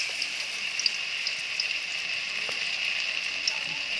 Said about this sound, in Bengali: এখন আমি আস্তে আস্তে বড়াগুলোকে তেলের পরে ছেড়ে দেব।